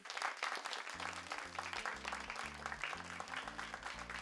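Audience applause welcoming Ali to the stage, a steady crowd clapping throughout while a low, rhythmic musical tone starts up underneath partway through.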